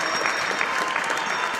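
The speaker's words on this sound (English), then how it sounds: "a round of applause for the Honorable Minister of Transport" Audience at an engineering federation's presidential inauguration applauds the Minister of Transport and Infrastructure, a brief burst of dense, steady clapping from a crowd in a hall.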